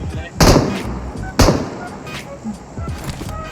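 Two sharp, loud gunshot-like bursts about a second apart, followed by scattered softer pops and clatter, with a few faint voices in the background, from gunfire in PUBG Mobile.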